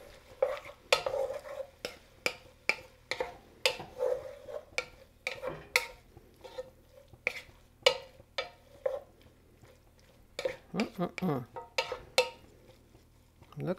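A spoon stirs a pot of bayou stew with cooked brown rice, making a steady run of sharp scraping strokes, roughly one per half second. The strokes are close and distinct, with a short flurry near the end.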